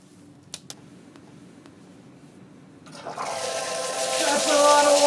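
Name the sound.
lab emergency safety shower dumping water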